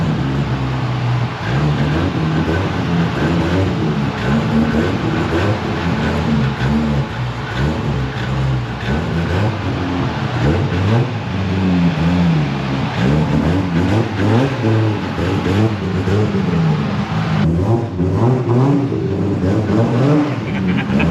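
A 2JZ-engined Toyota Supra revs hard at a JDM car meet outside a 7-Eleven, its loud engine roar rising and falling over a long stretch, close by, with no talking.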